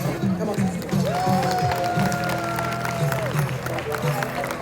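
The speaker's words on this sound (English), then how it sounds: "I want you all to give a round of applause for Democrats" A crowd applauds at an Africa Day cultural celebration in Houston, steady clapping and cheering mixed with voices and a sustained musical tone throughout.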